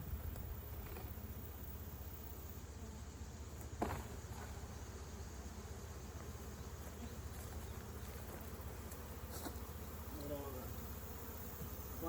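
Honey bees hum steadily around hives in a Kentucky bee yard, a dense continuous buzz with occasional louder passes near the microphone and a few faint handling sounds.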